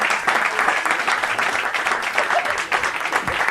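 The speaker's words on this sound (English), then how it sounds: "Everybody, big round of applause" Audience applause for a comedian at a live radio show, a moderate, lively patter of clapping with a few shouts, heard up close for a few seconds.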